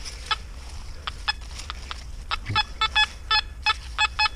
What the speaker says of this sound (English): sound like to me this detector's doing a pretty good job